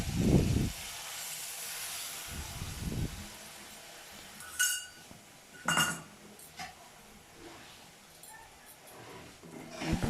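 Water poured into a pan of oil-separated fried masala for Bengali doi potol, bursts of hissing sizzle and splashing at the start, followed by scattered clinks of utensils against the pan and quieter stretches.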